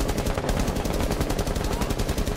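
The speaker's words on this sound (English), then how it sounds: "Why are you shooting me?" Rapid video game gunfire, a loud dense burst of machine-gun shots in an even, fast rhythm that fills the whole moment.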